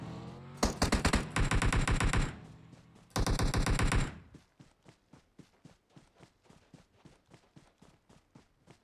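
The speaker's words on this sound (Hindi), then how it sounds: "फायरिंग की साउंड तो आई थी।" Automatic gunfire in PUBG on the Miramar desert map: two long, loud bursts of rapid machine-gun fire, followed by a steady run of quieter single shots spaced evenly apart.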